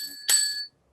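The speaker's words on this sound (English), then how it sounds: "And I will have here the bell," A small hand bell rung once to mark the end of a short pitch, giving a single bright, ringing ding that decays quickly into silence, near and alone.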